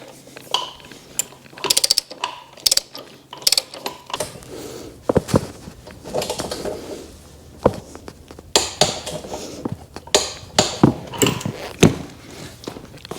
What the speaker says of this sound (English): take the torque wrench, and go ahead and tighten this one up first.